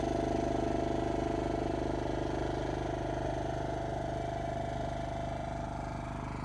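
Motor of a scale model ship running at slow ahead during model testing, a steady even drone that hums continuously throughout with no talk.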